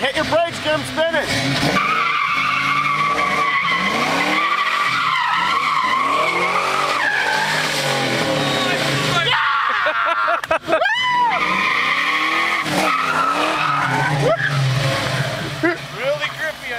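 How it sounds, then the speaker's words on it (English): A car drifts and spins, tires squealing and skidding in long wavering screeches as the engine revs, loud and close, with people talking and shouting throughout. "Hit your brakes, Jim, spin it!"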